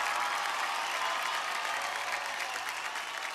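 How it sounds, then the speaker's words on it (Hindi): A television dance competition audience applauds, a dense, steady wash of clapping from a large crowd throughout. "जोरदार तालियां हो जाए यार"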